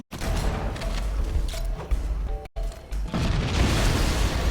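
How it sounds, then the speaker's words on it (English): A loud explosion inside a Halo video game, with heavy low-end rumble that sustains for several seconds, cuts off briefly, then rolls on in a second dense burst of crackling debris noise. "Ooh, talk about an explosion."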